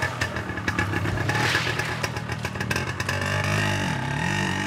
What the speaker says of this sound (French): Il saute sur la moto.